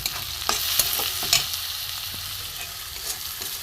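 Grated ginger fries in hot oil with turmeric, chili powder, garam masala, cumin-coriander paste and salt for a pointed gourd and potato dish, a soft steady sizzle broken by several sharp scrapes of stirring.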